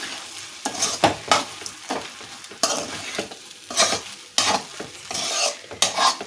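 Lemon rice is stirred and mixed in a pan, a spoon scraping and rustling through the grains in repeated strokes over a light sizzle, close and fairly loud, with no speech.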